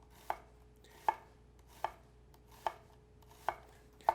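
A Nakiri knife cuts across an onion on a board, six crisp chops spaced about evenly under a second apart, close and clear with no talk.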